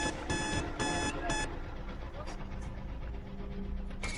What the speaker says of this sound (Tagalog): Warning buzzer.